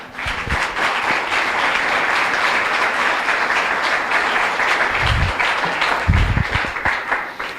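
A church congregation bursts into sustained, dense applause, many hands clapping loudly and continuously in a reverberant hall, with a few louder thumps near the end.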